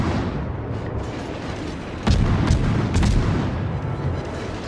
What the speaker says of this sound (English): I think that was the Musashi taking shots towards the St. Louis